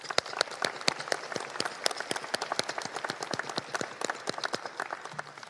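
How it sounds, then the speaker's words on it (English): Audience at a naval academy prizes and awards ceremony applauds, with distinct individual claps scattered loosely across the room at moderate volume, sounding like a modest crowd rather than a roaring one. "let's give them all a round of applause"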